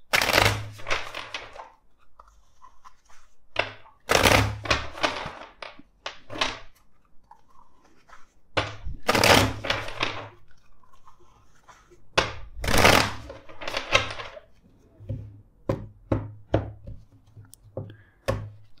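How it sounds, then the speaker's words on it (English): Repeated bursts of tarot card shuffling, riffles and thumps scattered over the clip with quiet gaps between them, close and fairly loud, no talking. "let's shuffle the deck."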